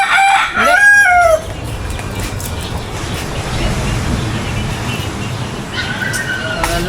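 Chicken crowing nearby in a rural Philippine setting, two rising crows early on followed by fainter crowing later, over steady outdoor background noise.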